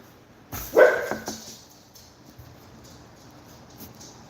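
A single dog barks once or twice at moderate distance, a short loud burst near the start that fades into quiet room noise.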